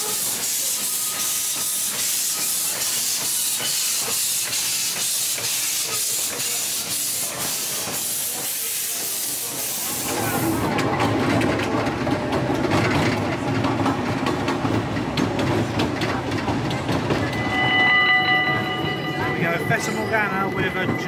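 A steam train at the Efteling theme park in the Netherlands hisses loudly with released steam for about ten seconds, then rumbles and clatters along with crowd noise and people talking nearby.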